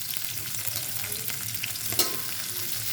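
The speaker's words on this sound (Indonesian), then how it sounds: "kita panaskan minyak, kemudian bumbu yang tadi kita iris dan jahenya kita geprek, kita tumis" Sliced spices and crushed ginger stir-frying in hot oil for a chicken dish, with a steady close sizzle and a light stirring clink partway through.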